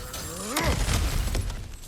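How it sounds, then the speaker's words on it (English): In God of War Ragnarök, an obstacle is smashed apart with a loud, close crash and shattering debris, followed by rumbling pieces settling and a second crunching impact. "back to smashing through things for fun and profit"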